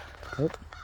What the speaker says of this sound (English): there's my crow